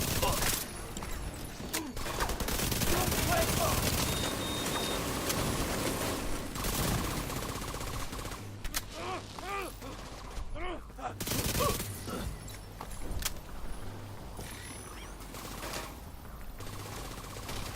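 Sustained automatic gunfire from a drone and guns in The Division 2, dense rapid bursts running nearly throughout with brief lulls, mixed with other combat sounds and occasional talk.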